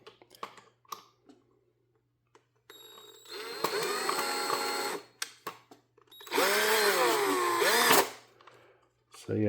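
A T9 driver backs screws out of a Philips Norelco SmartClean shaver cleaning station, sounding as two close, whining power-driver bursts with clicks and handling noises between them.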